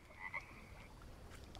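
Frog croaking in the jungle survival game Green Hell, a short raspy call near the start over a steady ambient hum, with faint insect-like chirps later and no speech.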